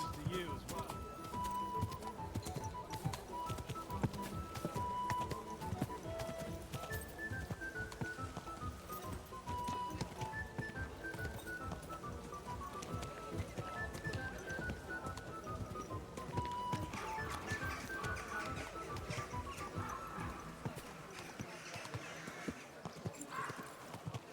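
Horse hooves clip-clop at a steady walking rhythm in the video game Kingdom Come: Deliverance II, continuous and close, with a soft musical score and occasional snorts beneath.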